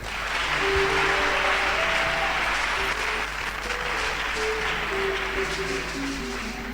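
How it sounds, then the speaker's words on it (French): A church congregation at a Christian service in Ouagadougou claps steadily for several seconds, a dense even applause over a low sustained hum and faint tonal notes. "Sous vos acclamations."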